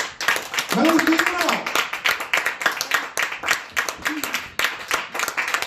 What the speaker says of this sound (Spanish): pues dale un aplauso a Dios